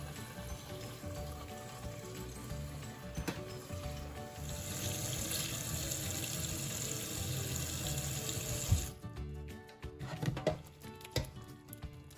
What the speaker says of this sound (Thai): เทน้ำทิ้งแล้วก็ล้างออกไปนะคะ